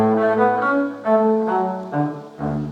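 Cello playing a Bach courante slowly at half tempo, sustained bowed notes changing every half second or so, rich and close with no talking.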